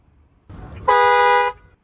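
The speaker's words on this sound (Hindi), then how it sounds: "डुअल हॉर्न है" Dual horn of an MG Windsor EV Essence sounding one steady blast of about half a second, loud and close, after a short rustle, with no voices.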